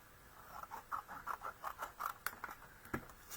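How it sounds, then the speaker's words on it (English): Scissors cut card stock in a quick series of faint, close crisp snips, about a dozen in an irregular rhythm, with a slightly louder snap near the end. "So I just want to cut this"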